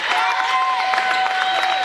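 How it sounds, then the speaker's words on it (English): Spartan fans at a high school basketball game applaud steadily, dense clapping from a large crowd with a sustained ringing tone running underneath. "The Spartan fans standing to applaud the kids here tonight for the great job that they did"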